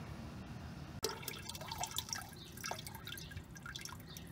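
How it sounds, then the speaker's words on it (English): Water draining from an RV's low point drain into a container, a faint stream of dripping and splashing that starts abruptly after a moment of quiet. "I had my low point drain open now for about a minute and I collected almost 4 gallons of water"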